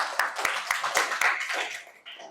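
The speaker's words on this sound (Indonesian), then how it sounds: "tepuk tangan" A small classroom group claps together for a student, a quick burst of sharp, distinct hand claps at close range that thins out and stops within about two seconds.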